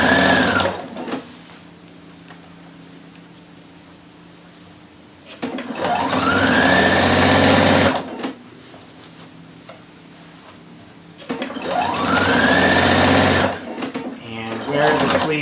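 A sewing machine stitches the band onto a shirt sleeve in two loud, steady runs separated by quieter stretches, close by.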